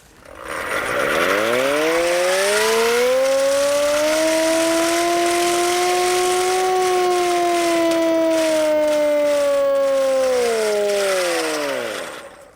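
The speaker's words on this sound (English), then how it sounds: "it was his job to sound the air attack was imminent using the hand operated siren" A hand-operated air attack warning siren winds up from a low groan to a loud, sustained wail, holds steady for several seconds, then slowly spins down and fades out, heard alone and close.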